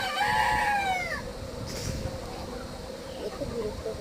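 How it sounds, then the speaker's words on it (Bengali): Three-month-old Egyptian Fayoumi chickens on a farm call out, with a clear, loud squawking cry at the start, then fainter clucking against constant background noise. "এই মুরগিগুলো বিক্রি করব প্যারেন্টসের জন্য।"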